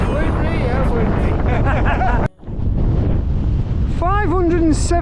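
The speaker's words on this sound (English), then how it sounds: "Windy enough!" Strong wind roars and buffets against the microphone on the exposed 573-metre summit of Blake Fell, a constant loud gusting that drops out briefly before returning, with people talking over it.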